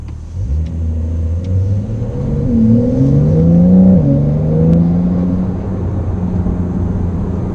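A Porsche 911 Carrera 4S of the 992 generation in sport mode pulls out of a side street and accelerates hard, its engine note loud and close, climbing steadily in pitch and then holding a strong, sustained roar.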